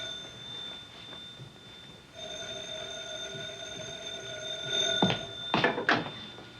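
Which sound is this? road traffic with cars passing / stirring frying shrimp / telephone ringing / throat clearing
telephone ringing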